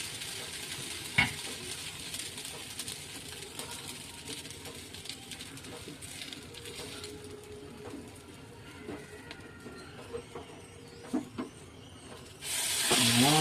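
Stuffed aloo kulcha fries on a hot pan with a faint, steady sizzle and hiss, broken by a few soft scrapes and taps, and the sizzle swells louder near the end.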